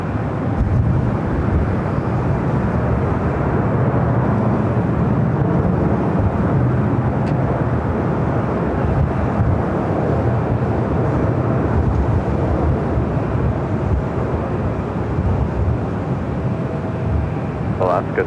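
Continuous broadband roar of an airliner landing on runway 24 right at LAX, steady and moderately loud throughout, heard from a distance with no clear events standing out.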